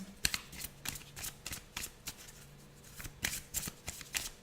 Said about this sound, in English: Let's get a Colette Baron Reid card out.